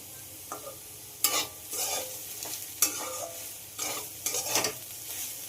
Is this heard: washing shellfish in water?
no